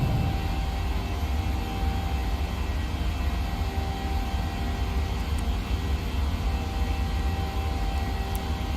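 Engines of a PMDG 737 airliner climbing in Microsoft Flight Simulator 2020, a steady, loud, continuous jet drone with a constant hum and no talking.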